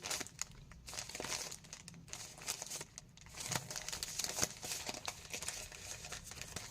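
Small paper sticker packets being opened, with irregular crinkling, crumpling and tearing of paper up close, steady soft rustling throughout with occasional sharper rips.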